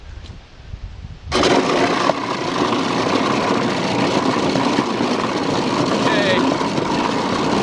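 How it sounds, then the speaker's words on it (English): A Whizbang grinder turns whole apples into mash, switching on abruptly with a loud, dense, continuous grinding roar that holds steady while apples are fed in; someone speaks briefly before it starts. "hopefully you can see that mash coming out down there, and I'm feeding apples in. The grinder is taking them as fast as I can"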